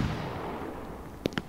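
Fireworks go off in the video game Fireworks Mania, two sharp distant pops cracking over a steady low background rumble near the end.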